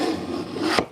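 Hand plane shaving a small wooden table top, a close, continuous rasping scrape for under a second that ends with a brief sharper swipe.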